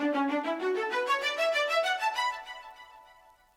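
A string run one-shot in an FL Studio 2000s R&B beat: a quick rising sequence of bowed notes climbing step by step, then ringing out and fading, heard alone.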